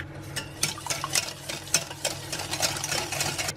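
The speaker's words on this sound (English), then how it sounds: "add in 4 eggs, one at a time, whisk it in" Eggs are whisked into a chocolate trifle batter for a low-carb keto dessert, with repeated clicking, scraping strokes of a whisk against the bowl in a busy, irregular rhythm, close up and with no talking.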